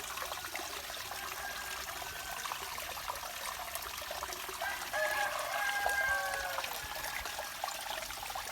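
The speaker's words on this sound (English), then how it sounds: "where you hear the waterfall" A waterfall in Bali gives a steady, broad rush of falling water that stays constant throughout, with faint birdsong or rooster calls rising briefly in the middle.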